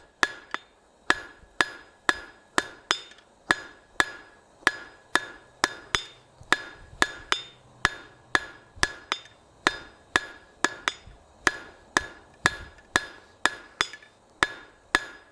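A blacksmith's hammer forges bar stock over the horn of an anvil, ringing out in about thirty sharp, evenly spaced metallic blows, close and clear, with no talking.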